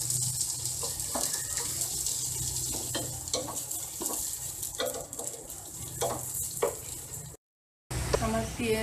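Onions frying in mustard oil for beef tehari give a steady, close sizzle with scattered stirring scrapes, broken by a brief gap of silence near the end before the sizzle resumes.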